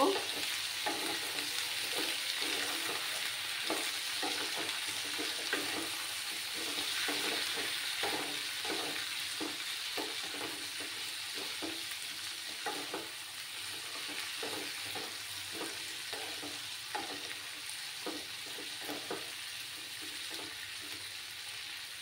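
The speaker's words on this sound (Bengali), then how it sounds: "হলুদ গুঁড়ো দিয়ে নাড়াচাড়া করব।" Turmeric powder is stir-fried in a pan for a cauliflower stem chorchori, with steady sizzling and rhythmic spatula scrapes repeating close by for a long stretch, no voices.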